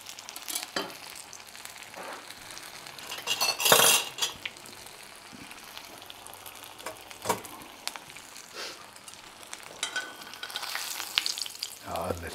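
Bacon, sausage and onion fry in a pan with a constant sizzle, broken by stirring scrapes and occasional clinks of a utensil against the pan, up close and with no talking.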